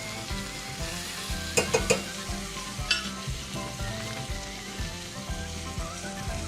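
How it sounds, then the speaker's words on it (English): Steak sizzles in a cast iron skillet while butter is spooned over it, a loud continuous crackle and spatter broken by a few sharp metallic clinks of the spoon. "we'll just kind of drip this all over, baste it on top of the steak"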